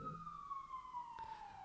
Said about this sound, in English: As a siren wails outside of my window.